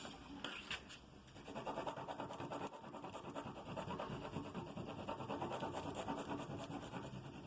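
A pencil is rubbed over a sheet of paper laid on sandpaper, giving a dense gritty scratching in rapid, continuous back-and-forth strokes, close and fairly loud, with no talking.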